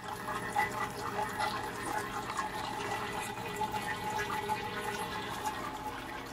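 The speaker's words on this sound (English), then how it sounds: "This is just slowly trickling because the pumps have already shut off and it's just residual water draining back into this tray" Leftover water draining slowly back into a tray in a hydroponic greenhouse after the pumps have shut off, a soft continuous trickle with faint drips, steady and close, with no voices.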